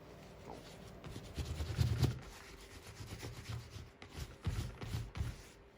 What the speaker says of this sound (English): I put about double as much wax on the collars as I usually put on the rest of the jacket just to keep that stiffness there